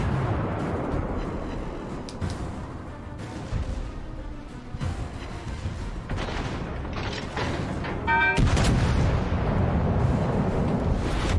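Secondary guns of the French battleship Republique fire in World of Warships Legends, a dense run of booming, cracking shots over constant rumbling battle noise, with a louder volley near the end.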